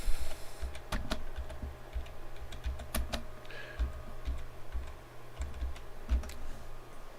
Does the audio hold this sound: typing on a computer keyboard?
yes